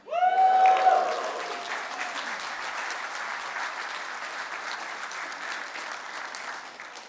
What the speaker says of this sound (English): Give me that cheer.